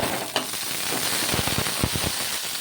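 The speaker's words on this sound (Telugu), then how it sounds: "ఒకడాయి తీసేసుకొని ఇంకా అందులోకి కారానికి తగ్గట్టు పచ్చిమిర్చి కొద్దిగా నూనె అనేది వేసేసుకొని ఈ పచ్చిమిర్చిని మగ్గించుకోవాలి" Green chillies sauté in a little oil in a kadai, giving a steady close sizzle and frying hiss with a few sharper crackles and stirring scrapes late on.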